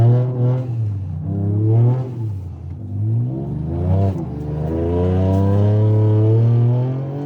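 Driving on snow, a Toyota GR Yaris engine climbs through revs in several loud, close pulls, pitch sweeping up and dropping between shifts before a long sustained rise.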